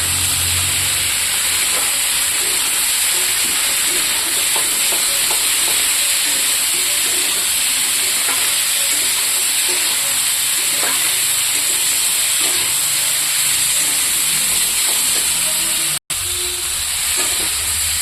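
A loud, continuous hiss of cauliflower, potato and tomato frying in hot oil with turmeric, steady throughout with faint clinks in the background.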